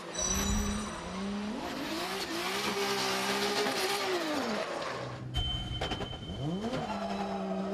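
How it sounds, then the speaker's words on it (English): An 850 bhp Toyota Alteza drift car at an FIA Intercontinental Drifting Cup event screams through a drift, its engine wailing and rising and falling over loud tyre squeal, then revving again near the end. "The 2016 King of Asia champion performed a solid drift in his 850 brake horsepower Toyota Alteza."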